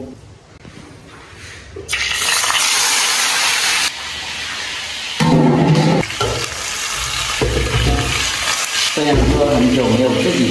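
Fish frying in hot oil in a kitchen pan gives loud bursts of hissing sizzle that cut in and out over several seconds, with quieter rumbling stretches between the louder spells.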